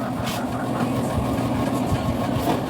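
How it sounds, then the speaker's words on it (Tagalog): A strong cooking stove flame roars steadily while spaghetti sauce is sautéed, a dense continuous rushing noise with a low rumble and no breaks, close and alone. "Ang lakas ng ating apoy."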